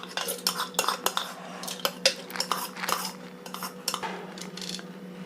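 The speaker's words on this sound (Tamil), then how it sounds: "அதை குக்கரில் சேர்த்துக்கலாம்." Washed toor dal goes into a pressure cooker with repeated close metallic scrapes and clinks of a spoon against the metal, in irregular bursts without speech.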